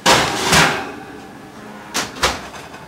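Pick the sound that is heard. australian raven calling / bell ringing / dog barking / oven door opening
oven door opening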